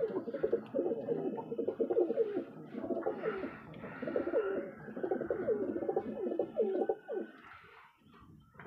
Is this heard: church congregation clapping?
no